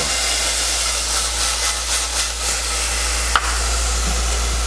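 Food sautéing in a blend of vegetable, canola and sesame oil makes a loud, constant close-up sizzling hiss, with one brief sharp tap partway through.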